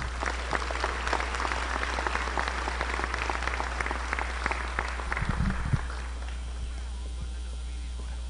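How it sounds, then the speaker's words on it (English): A high school awards ceremony audience gives a dense, steady round of applause for award-winning students, the clapping carrying on for several seconds before stopping abruptly, leaving quiet room tone. "Let's give these students a round of applause, please."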